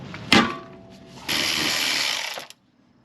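A wrench works a 14 mm brake caliper bolt on a rear disc brake Honda: a sharp metallic clank, then a second of steady harsh ratcheting buzz that stops abruptly into silence.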